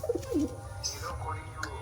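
Indian fancy pigeons give a brief, quiet burst of cooing near the start, followed by faint low murmurs and soft background noise.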